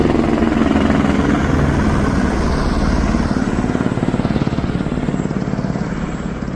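A helicopter flies over Gosainkunda lake, high in the Nepal Himalaya at 4380 m, its loud, close rotor thudding steadily and pulsing under a rushing engine roar for the whole stretch.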